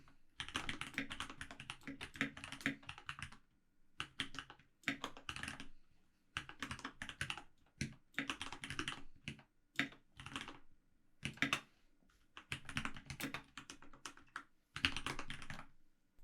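Fingers type an SQL statement on a computer keyboard, crisp close key clicks arriving in quick bursts separated by short silent pauses, fairly quiet, with no talking.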